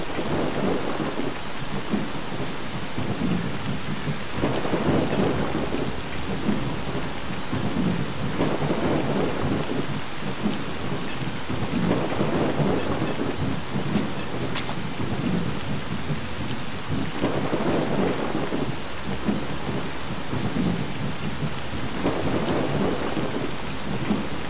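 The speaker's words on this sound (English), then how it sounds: "Lately it's raining like all the time." Steady heavy rain pours throughout a video game scene while rolls of thunder rumble repeatedly, swelling and fading every few seconds.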